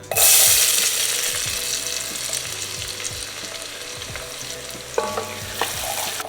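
Chopped onions hit a hot pan with leftover bacon fat and burst into a loud, bright sizzle that settles into a steady frying hiss, with a spoon scraping and clinking as they are stirred, for a bacon and mushroom rigatoni.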